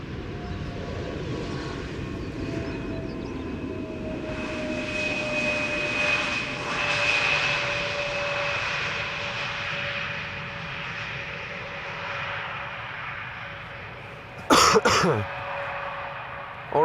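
An airliner on parallel arrivals at Schiphol Airport, a sustained jet engine drone with a steady whine, moderately distant, ending with a brief nearby cough or throat clearing.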